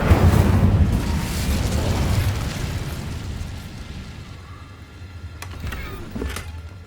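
An Incendio fire spell cast in Hogwarts Legacy bursts with a loud, rumbling whoosh that slowly fades, followed by a few faint, sharp crackles near the end.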